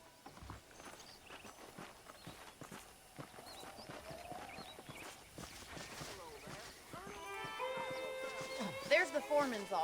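Saddled horses in Red Dead Redemption walk along, hooves clopping softly beneath a voice, with a neigh and some music rising toward the end.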